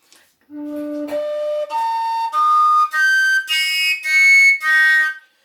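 A low fipple penny whistle climbs the harmonic series in eight sustained notes, each stepping higher than the last. The notes are loud and clear, with short gaps between them.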